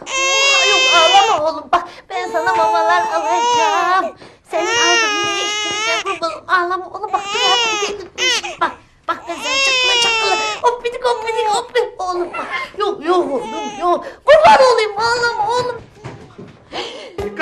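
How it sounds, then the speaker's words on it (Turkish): A baby held in someone's arms in a classroom cries loudly and close by in repeated wailing bursts with short breaths between, then trails off into whimpers and fussing. "deminden beri gelen ağlama sesi bu kucağındakinden mi geliyor?"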